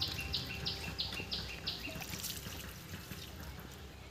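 Water splashing and dripping while pieces of katla fish belly are washed, with faint irregular trickles and drips at low level, and birds chirping softly in the background.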